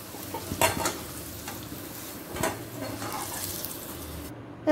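Potatoes fried red in mustard oil in a wok are stirred and lifted out, a moderate sizzle under a few louder scraping stirs and clinks, ending in a sharp knock.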